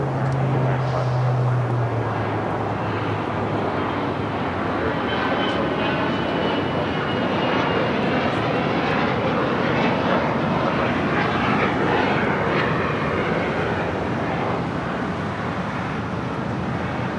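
A steady, loud roar of a jet airliner's engines at Los Angeles International Airport fills the whole stretch, broad and continuous with a slight swell, as a plane rolls down the runway.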